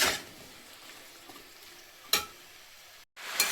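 Malabar spinach and tomato are stirred in a pan over a faint sizzle, with a few distinct scraping strokes of the spoon against the pan, close and quiet.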